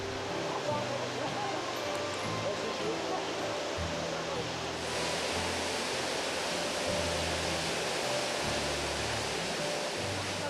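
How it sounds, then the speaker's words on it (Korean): Steady, dense roar of the Krimml Waterfalls in the Austrian Alps, a 380-metre fall, constant and broad, with a low rumbling undertone throughout. "마을을 향해 힘차게 흘러내리는 크림물 폭포는 길이 380m로 유럽에서 가장 규모가 큰 폭포"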